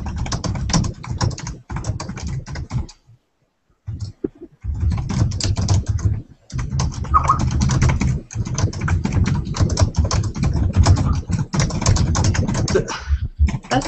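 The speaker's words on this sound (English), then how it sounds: "Typing." Rapid clattering keystrokes on a computer keyboard, close and continuous in quick irregular bursts with two short pauses, the tapping dense and crisp throughout.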